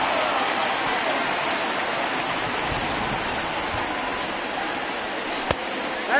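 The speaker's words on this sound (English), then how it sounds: "the rain starting to intensify here. It's coming down a little heavier now." Steady, heavy rain hiss in a baseball video game, a continuous broadband wash with a single sharp crack near the end.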